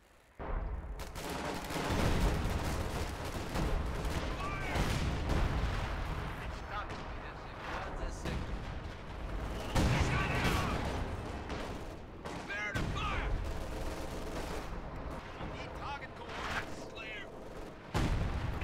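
Gunfire and artillery from a Company of Heroes 2 battle crackle and boom in dense bursts with heavy low rumbles throughout, while a player talks over the chaos.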